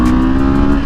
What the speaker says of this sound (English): 693cc parallel twin they stuffed into this bike